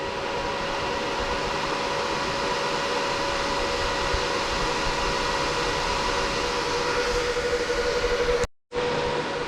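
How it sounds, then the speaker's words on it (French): Cooling fans of a cryptocurrency mining rig, a BTC-S37 in a closed case and still idle, roar in a steady loud whoosh with a constant hum, cutting out briefly near the end. "même au repos les ventilateurs, on est à 86 décibels"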